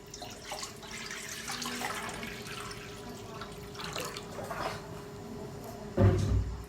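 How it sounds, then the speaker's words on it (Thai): Tap water running into a cooking pot while preparing Thai chicken soup, a steady close splashing stream with light drips and a heavier gush near the end. "ใส่น้ำ"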